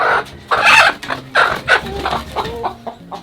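Chickens clucking at close range by their coop at evening, a series of loud, uneven clucks and squawks in quick bursts with no speech.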